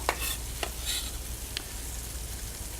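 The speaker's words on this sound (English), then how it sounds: "So I'm actually going to add my soffritto now" Soffritto fries in a pan with a low continuous hiss, marked by a few brief scraping or clinking stirs, close and fairly quiet, without speech.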